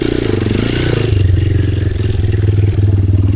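An enduro motorcycle engine chugs and throbs steadily on a rocky trail, loud and close, with rattling clatter from the bike over the rough ground.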